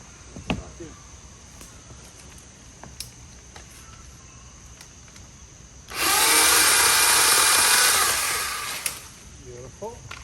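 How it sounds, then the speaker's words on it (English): A handheld power saw run off a small portable camping generator bites into material on a bouncy surface, a loud steady buzzing cut lasting about three seconds before winding down, with a voice talking around it. "Got a saw. We're gonna start cutting."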